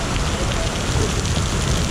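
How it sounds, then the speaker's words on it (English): Rain patters in a dense, steady hiss at the Le Mans 24-hour race, close and continuous with no clear voices over it. "The rain in France falls usually here."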